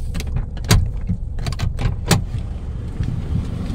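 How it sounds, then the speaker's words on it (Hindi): A car door is opened and slammed as someone gets out of the car, giving a few sharp close clunks and clicks over a low idling hum, with no talking. "तो अभी मैं उतरा हूँ अली भाई की गाड़ी से और पैदल जाएंगे अंदर"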